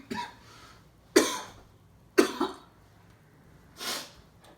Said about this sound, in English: I know I just coughed, but I coughed because I smoke